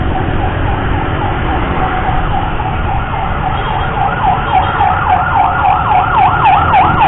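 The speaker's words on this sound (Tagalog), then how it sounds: "Ambulance." An ambulance siren wails in repeated rising and falling sweeps, growing louder over steady traffic and motorcycle engine rumble in midday city congestion on the way through Makati.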